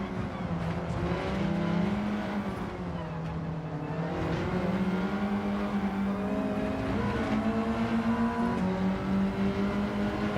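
Hyundai Elantra engine in Gran Turismo 7 on PS5 Pro: a sustained droning engine note climbing through the revs with brief shifts, heard at moderate level with faint background chatter.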